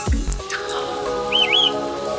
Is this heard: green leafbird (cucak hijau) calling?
yes